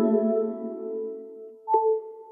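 iOS 11 Engage Power wireless charging sound: a futuristic, layered electronic tone that hums and slowly fades, followed by a brighter ping with a lingering ringing tail, with no other sounds.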